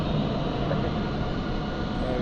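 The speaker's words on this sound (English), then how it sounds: "there is KLM just opposite us coming in on approach" A KLM airliner on approach to London City Airport, a steady broad jet rumble heard at a distance, continuous and fairly loud throughout with no rise or fall.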